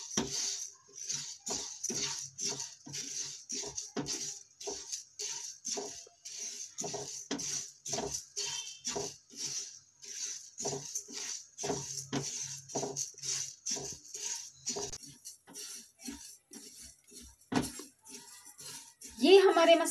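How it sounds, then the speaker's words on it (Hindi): Fennel, fenugreek, cumin and mustard seeds dry roasting in a pan, with a steady run of light metallic clinks and scrapes from a stirring spoon against the pan for the whole stretch. "ये हमारे मसाले रोस्ट होने लगे हैं।"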